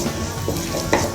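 Cumin seeds frying in a pan for homemade spicy Chicken 65, a brief crackling sizzle with light stirring clicks close by.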